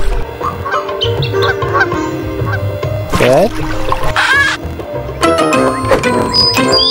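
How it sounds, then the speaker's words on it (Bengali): A cartoon duck honks repeatedly in the Meena 2 mobile game, loud nasal calls rising and falling over looping game music, with sharp electronic chimes and effects. "আচ্ছা, এরা যে হাঁসটা চলে গেছে,"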